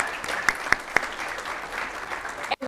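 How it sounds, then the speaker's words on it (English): Audience applause breaks out at a city's State of the Address after a crime-drop announcement, a steady wash of many hands with a few sharper claps, ending abruptly. "Think that deserves a hand clap?"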